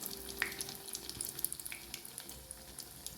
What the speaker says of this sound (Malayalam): ഇതുപോലെ എല്ലാം നമുക്ക് വറുത്ത് കോരിയെടുക്കാം.